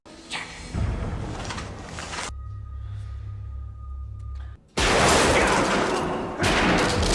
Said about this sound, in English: The bomber opens fire, injuring Harry and taking him hostage.